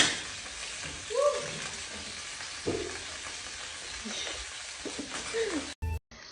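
Food cooks in a pan with a low, steady sizzle and occasional stirring clinks, while a person's voice is heard faintly at times, and the sound cuts off abruptly near the end.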